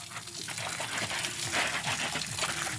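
Water gushing and splashing from a leaking pipe during plumbing work, a continuous loud rushing spray close by.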